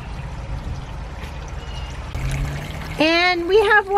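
Water begins pouring from the tube of a sump pump after a low motor rumble, with a louder, steadier gush of flow in the final second.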